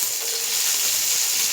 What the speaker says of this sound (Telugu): అలాగే కొంచెం కరివేపాకు, పచ్చిమిర్చి, ఆనియన్ వేగాలి.